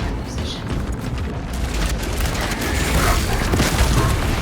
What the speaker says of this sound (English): Light their tunnels ablaze with melter charges!